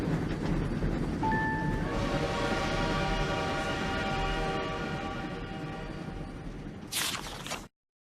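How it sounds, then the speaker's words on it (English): The Friendship Express train in a My Little Pony video game rumbles along in a steady chugging roar with a sustained horn tone, fading slightly before a bright chime and abrupt cutoff. "The Friendship Express is taking the ponies to Canterlot, where Princess Celestia is waiting for them"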